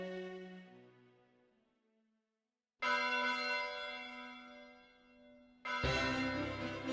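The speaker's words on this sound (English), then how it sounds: "A bell rings out." A single large bell rings for a royal wedding in an anime scene, struck twice: a first ring fades away into silence, then two loud, ringing strokes follow, each leaving a long, shimmering hum.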